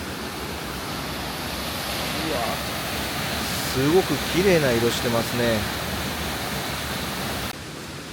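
A high mountain waterfall with a large drop, in a remote hot spring area of the Gifu mountains, roars as a constant broad rush while someone speaks over it.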